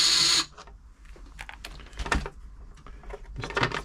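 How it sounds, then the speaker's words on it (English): Screws are being taken out of an Elna 3007 sewing machine during servicing: a loud whir at the start from a powered screwdriver, then scattered clicks, scrapes and metallic taps of parts and screws nearby. "Just whiz all these screws off"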